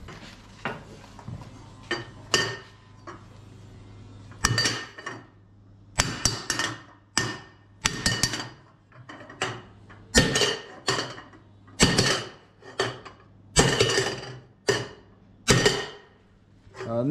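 A hammer strikes metal while forging armor, a series of sharp ringing blows, irregular at first and then in a steadier rhythm, close and loud, with quiet talk in the background.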